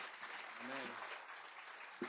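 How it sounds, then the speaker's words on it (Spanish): A congregation at a church service claps steadily throughout, the broadband patter filling the space while a single voice speaks briefly over it. "Dale un aplauso al Señor"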